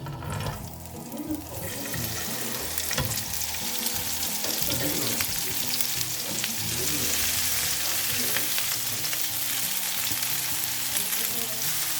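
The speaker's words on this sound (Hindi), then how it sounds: "हम डाल देंगे अपनी सब्जियाँ।" Vegetables sizzle and crackle steadily in a few tablespoons of oil in a pan for Singaporean rice, a loud, continuous fry with stirring and scraping textures, no talking.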